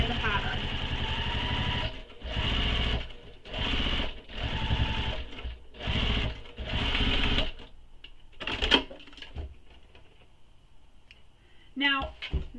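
A sewing machine top stitches a bag panel in several loud bursts of steady whirring, separated by short pauses, then stops; quiet handling sounds and rustling follow near the end.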